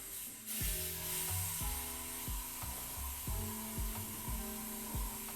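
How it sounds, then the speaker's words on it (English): An airbrush sprays a skin-tone base coat onto a garage kit figure, a steady hissing rush that runs without a break, with a low rhythmic mechanical pulsing underneath, probably from the compressor. "Spray a whole base layer again."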